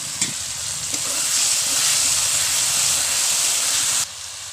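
Loud, steady sizzling and hissing as a little water hits spiced oil and marinated chicken in a hot pan for a homestyle chicken and potato curry; the hiss cuts off abruptly near the end.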